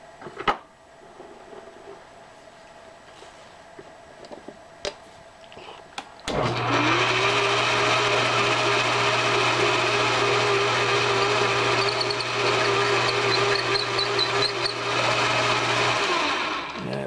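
A quiet workshop with a few clicks and knocks gives way to a machine starting up and running with a steady whine and hum as a center hole is drilled into a metal part, continuing for about ten seconds before winding down.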